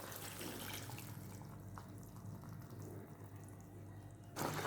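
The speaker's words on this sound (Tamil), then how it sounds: "இப்போ இந்த வெள்ளை தண்ணியை இதில் ஆட் பண்ணிக்கலாம்." Water poured into a pan of cooked mango in a home kitchen, a soft steady splashing trickle, faint and close, with a louder splash at the very end.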